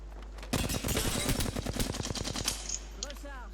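Flatline rifle gunfire in a competitive ranked shooter video game: a rapid automatic burst of about twenty evenly spaced loud shots over two seconds, followed by a short reload clatter and faint game sounds.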